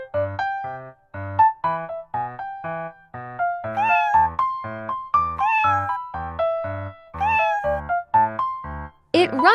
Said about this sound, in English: It meows and walks with soft paws.